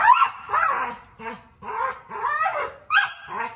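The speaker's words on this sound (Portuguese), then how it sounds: "Eu nunca tinha visto ele latir assim" A pit bull barks and yelps repeatedly nearby, a run of high, excited vocalizations in quick succession.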